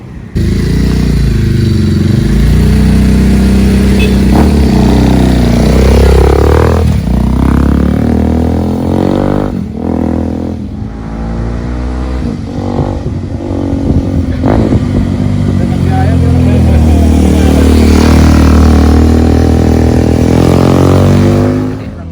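A loud Ducati Diavel motorcycle engine revs and roars up and down close by, sustained throughout with rising and falling pitch and some rattling.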